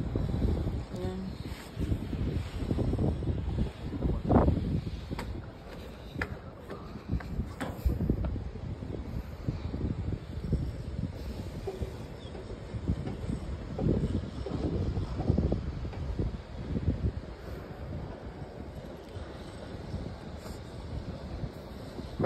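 Wind blows across open water near the Red Lorong Halus Bridge, buffeting the microphone in a steady low rumble with occasional stronger gusts and faint voices in the background.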